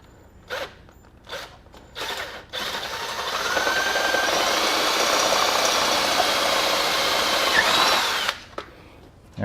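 A power drill bores holes into a Yamaha Tenere 700 motorcycle tail section for a Camel ADV luggage rack: a few short clicks and brief bursts first, then one steady high whine of drilling for about six seconds before it stops, close and loud.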